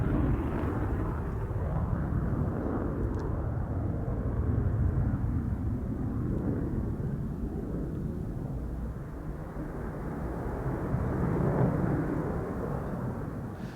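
A Swiss Air Force F/A-18 Hornet roars through display manoeuvres at an airshow, a sustained heavy low rumble of jet engine noise that swells and eases slightly, with no talk.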